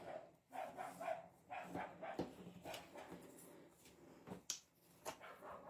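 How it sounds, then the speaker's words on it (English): A neighbours' new dog barks repeatedly in the distance, sharp intermittent yaps scattered through background room noise and faint clatter. "The neighbours have got this new dog, and it barks all day non-stop."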